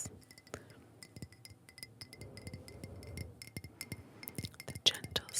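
Delicate glass ornaments clink together softly at a Christmas market, a scatter of faint, bright ticks and chimes over quiet, close ambient murmur.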